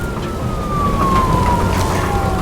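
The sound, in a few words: police car siren in the video game Nobody Wants to Die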